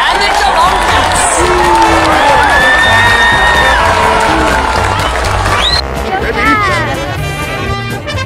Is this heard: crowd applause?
yes